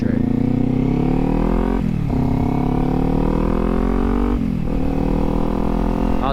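A Kawasaki Z400 motorcycle rides along back roads, its engine droning loudly and steadily, rising in pitch through each gear and dipping twice at gear changes.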